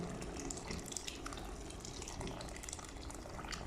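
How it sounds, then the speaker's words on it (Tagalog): Water poured into a pot of rice cooking into a comfort-food porridge, a steady splashing trickle that runs throughout at low level, close by, with no talk. "maglagay ako ng tubig, dagdag."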